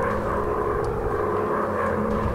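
Steady drone of a WW1 fighter plane's propeller engine in the Warplanes WW1 Fighters video game, a continuous, even hum holding at constant loudness with no talk over it.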